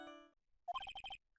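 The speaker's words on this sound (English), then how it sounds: "What kind of ringtone is that?" Short electronic mobile phone ringtone in a courtroom game scene, a quick burst of repeated bright beeping tones after a brief held note, heard alone and fairly close.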